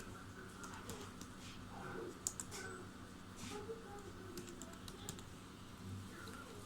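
Faint, fast keyboard typing is heard as a heading and bullet points are entered into a document on a computer. The soft, steady tapping sits under a low background hiss.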